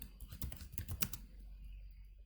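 Rapid typing of a code comment on a computer keyboard in a Python setup, a quick burst of close key clicks that stops after about a second.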